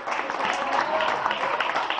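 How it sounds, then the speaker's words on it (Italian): Crowd at a magic show during a San Marziale town festival gives a short burst of steady applause, dense mid-level clapping that lasts about two seconds. "accogliamolo con un grande applauso"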